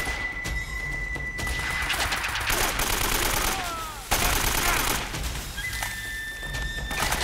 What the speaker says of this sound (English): Get this AK out.